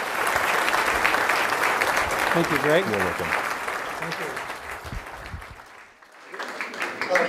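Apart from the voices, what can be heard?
audience applause for a speaker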